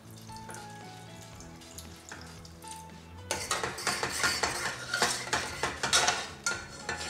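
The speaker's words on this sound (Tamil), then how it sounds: "பால் கொஞ்சம் கொஞ்சமாக சேர்த்து நல்லா மிக்ஸ் பண்ணி விட்டுக்கோங்க." A spoon stirs milk into a maida flour mixture in a metal pan, giving rhythmic close scraping and clinking strokes that grow louder and busier partway through.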